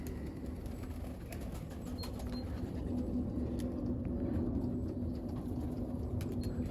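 Racing pigeons coo at an outdoor loft, soft repeated low calls layered over a continuous rumbling background with occasional sharp ticks, fairly close and without talk.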